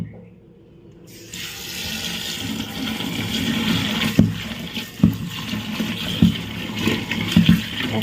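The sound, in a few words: washing cut greens (saag) with water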